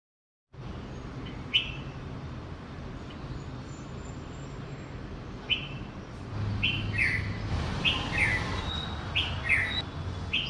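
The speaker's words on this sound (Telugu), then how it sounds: "మా ఇంటి దగ్గర చెట్ల మీద ఇలాగా పక్షులు అరుస్తూ ఉంటాయండి" Outdoor ambience where birds chirp and call in short bursts, sparse at first and then more frequent, over a faint background hum of distant traffic.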